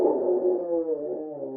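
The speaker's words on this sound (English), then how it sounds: "we got a nice little howl." A dog howls in a long, wavering, drawn-out tone that holds steady for over a second and a half, close and fairly loud, with no talk over it.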